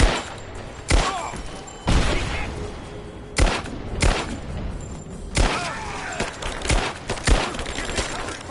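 A video game firefight with repeated loud gunshots and bursts spaced a second or so apart over a constant background of battle noise, and a few faint voices can be heard.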